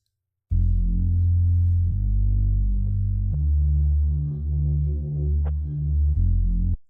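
A bass stem pulled out by RipX plays a deep, steady throbbing line with sustained low notes changing pitch every second or two, loud and alone, carrying a faint wash of vocal reverb bleed above it.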